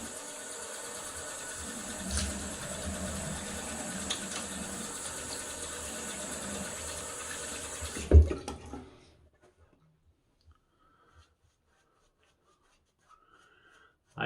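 A KureNai shavette razor is rinsed under a running tap, giving a steady close splash of water that cuts off sharply with a clunk near the middle, followed by near silence and a faint tap at the end.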